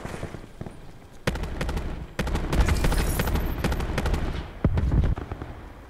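Rapid automatic gunfire in Call of Duty Black Ops 4 comes in loud, close bursts of sharp shots, with a short pause between volleys and a heavier blast near the end.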